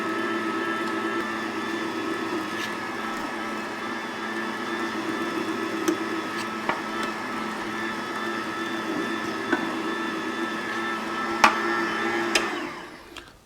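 A Cabela's Deluxe meat grinder runs at a steady, moderately quiet motor drone while grinding venison on the fine plate, with a few faint clicks and knocks over the hum before it stops at the end.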